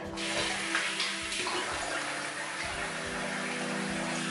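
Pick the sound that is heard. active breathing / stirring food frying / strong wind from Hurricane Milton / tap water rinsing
tap water rinsing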